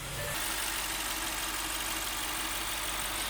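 An Audi S6 idles in an enclosed garage, giving a steady, constant engine drone with a dense broadband wash and no pauses, no voices.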